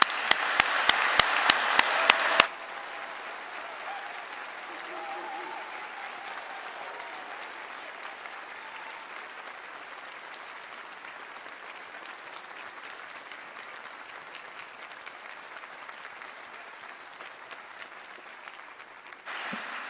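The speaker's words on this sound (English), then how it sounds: "can I only invite you to take one last round of applause for our graduates" At a University of Law undergraduate graduation ceremony, a few sharp, close individual claps lead into a long, even round of audience applause for the graduates that stays steady and moderate throughout.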